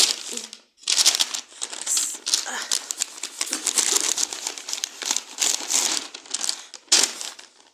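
A holiday gift package holding clothes is unwrapped close by, its plastic crinkling and rustling loudly and almost without a break, with short pauses as the wrapping is handled.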